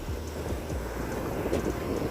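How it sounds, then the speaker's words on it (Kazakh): Strong wind over waves roars and buffets the microphone in a continuous low rumble, with gusts rising and falling throughout. "Ала қатты жел болып тұр, және толқын болып тұр."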